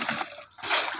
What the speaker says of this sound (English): Pouring cement for the columns.